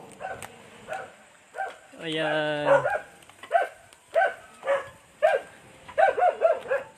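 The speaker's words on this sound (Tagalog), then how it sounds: "Ay, may aso pala." A dog barks in a run of sharp, close barks with a brief whining, drawn-out yelp between them, at night; a person speaks briefly nearby.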